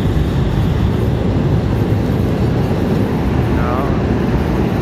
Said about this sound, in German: Das sind deren Straßenbahnen.